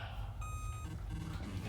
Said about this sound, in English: all the sound effects were just worthless beeps and boops